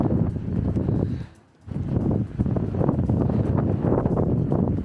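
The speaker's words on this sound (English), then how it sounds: "It's windy at the moment" Strong wind on a beach in Brittany, France buffets the microphone in a low, rumbling roar, dropping briefly before gusting back steadily.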